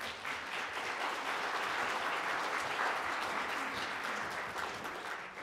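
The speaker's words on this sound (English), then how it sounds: "Please give a warm round of applause to Mr." Warm applause from an audience at an immigration law training session welcoming a speaker, a steady round of many hands clapping, fairly soft and distant, easing off toward the end.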